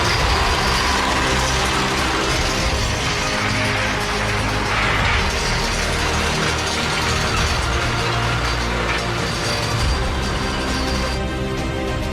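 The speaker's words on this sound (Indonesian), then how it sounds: "Suara deru mesin yang sangat keras" A diesel hydraulic locomotive roars loudly and steadily as it pushes over a grass-covered track on a new rail line, a dense constant engine drone with rattling mechanical texture and no gaps.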